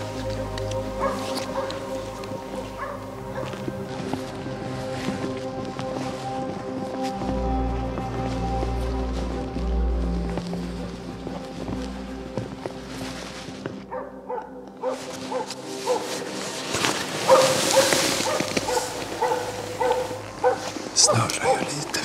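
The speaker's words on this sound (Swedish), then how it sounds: "Så man bara går när hunden skäller." A hunting dog bays and yips at intervals during a moose hunt in the woods, with some whimpering, while someone talks quietly nearby throughout.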